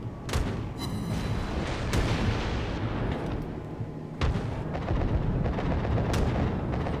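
Anti-aircraft guns on a warship in World of Warships blasting continuously, a dense, loud barrage of overlapping booms and rapid cannon fire with heavy thuds throughout.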